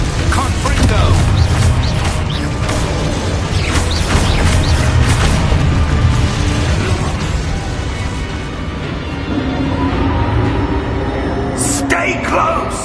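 A blasting Confringo spell from Hogwarts Legacy booms amid a dense, continuous mix of game effects and rumbling, with an echoing burst near the end, all fairly loud and steady throughout.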